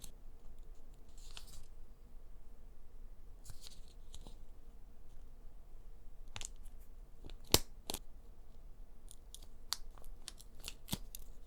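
Sharp, isolated snips of scissors cutting through folded origami paper to cut out a hydrangea pattern, close and crisp, with short pauses and a small cluster of quick cuts near the end.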